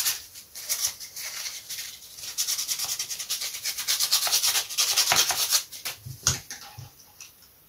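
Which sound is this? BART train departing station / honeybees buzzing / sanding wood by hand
sanding wood by hand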